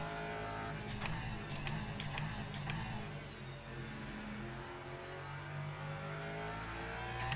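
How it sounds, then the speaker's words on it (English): A hypercar race car approaching on track, a continuous loud engine roar with sustained harmonic whine, close and steady under faint rattles, no talk over it. "Hypercar coming up."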